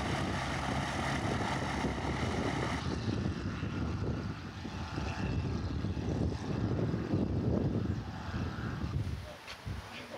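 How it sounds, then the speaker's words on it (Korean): Propeller light aircraft taking off and landing on a runway beside a sky-activities airfield in Guadeloupe, a steady loud engine drone throughout that eases off near the end. "바로 옆 활주로에선 크고 작은 비행기들이 사람들을 태우고"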